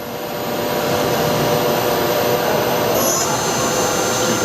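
A 2008 Doosan Puma 2000SY CNC lathe runs its sub spindle, fitted with a 6-inch chuck, at about 1,000 RPM, producing a loud, steady machine whir and hum that holds constant throughout.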